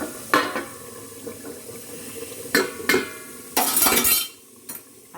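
A lid goes onto a cooking pot in a home kitchen, giving several sharp metal-and-glass clinks and knocks spaced over a few seconds, with a brief burst of rattling near the end, loud and close with no talk.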